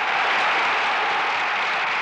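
A large crowd at Ceaușescu's 1968 speech in Romania applauds and cheers in a steady, dense roar that stays loud and unbroken throughout, with no voice standing out.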